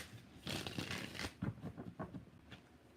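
Tarot cards shuffled by hand during a live reading, a quiet riffling flutter of card edges followed by several soft, irregular slaps and taps as the deck is squared, close and faint, with no talking.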